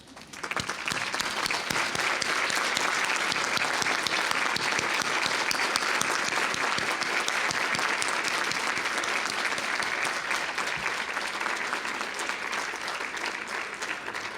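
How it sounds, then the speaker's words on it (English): Graduates at a law school commencement rise in a standing ovation, filling the hall with loud, continuous clapping from a large crowd that stays strong and even for well over ten seconds. "give these people a standing ovation"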